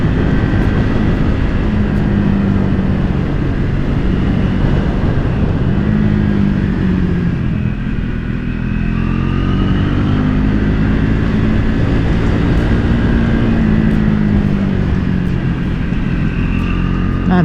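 A Triumph Speed 400 motorcycle ridden on a tight, twisty road, its small engine droning steadily and loud with slight rises and falls in pitch under continuous wind rush.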